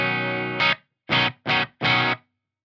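Electric guitar through a Bondi Effects Sick As overdrive on its green tone, a sustained saturated chord followed by three short, punchy chord stabs separated by silence, loud and dry.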